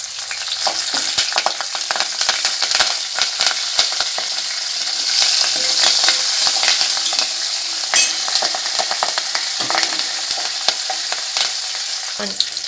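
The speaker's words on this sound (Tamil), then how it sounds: "வெள்ளைப்பூண்டை போட்டு அப்படியே லைட்டாக பொன்னிறமாக ஆகட்டும்" Garlic and curry leaves sizzle in hot oil in a pan while cooking for a tamarind gravy, a dense, bright crackle that runs continuously with occasional stirring scrapes and clinks, close by.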